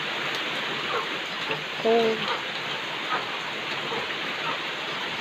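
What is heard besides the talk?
rain falling outdoors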